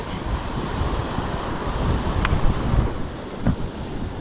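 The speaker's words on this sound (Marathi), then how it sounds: "बघूया आता लाट मोठी आली की काय" Broadband rushing roar of sea waves washing on the shore, swelling and easing, mixed with wind buffeting the microphone.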